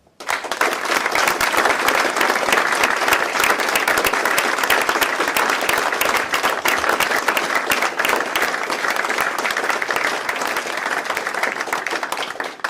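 Sustained, loud applause from an audience at a Policy Exchange event welcoming Prime Minister Rishi Sunak, dense steady clapping that holds for over twelve seconds without a break.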